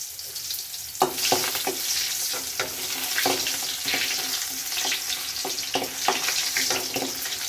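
Onion frying in a pan with dried fenugreek leaves (kasuri methi), a loud continuous sizzle with repeated scraping stirs and clatters throughout.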